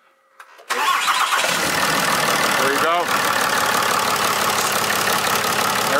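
A 6.7 Cummins diesel pickup engine cranks briefly, then catches and settles into a loud, steady, clattering idle up close, with someone speaking briefly over it.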